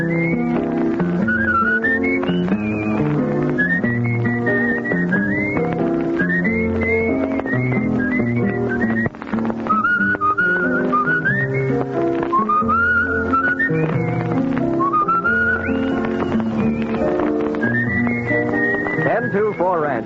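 A lilting tune whistled clearly and steadily over a backing of instrumental music, the melody rising and falling in repeated phrases.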